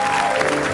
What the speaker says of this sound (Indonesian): Luar biasa, tepuk tangan untuk TJ.